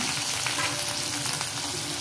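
Onion, garlic, green chili and cumin frying in hot oil for a spiced fenugreek and potato dish, giving a steady, dense sizzle throughout with occasional stirring scrapes, close and continuous with no talking.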